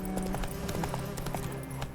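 The horse Roach galloping in The Witcher 3, with a steady, quick clip-clop of hooves throughout, fairly faint and unaccompanied by talk.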